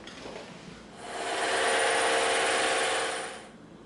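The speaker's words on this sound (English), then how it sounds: "what we're gonna do first is we're gonna cut this 18 millimeter piece out on the" A bandsaw slices through an 18 mm sheet of EVA foam, a steady buzzing whir that swells for about two seconds mid-clip and then fades, with no talking.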